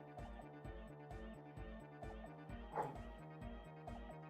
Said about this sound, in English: The cat and the dog are playing together. And the dog can't play without doing weird noises.